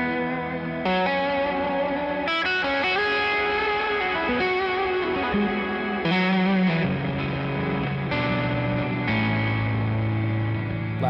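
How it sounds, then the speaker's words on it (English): Sustained electric guitar chords through a black hole reverb pedal, drenched in a huge, washy reverb that swells and smears each new chord into a long, lingering tail. "This is the black hole reverb."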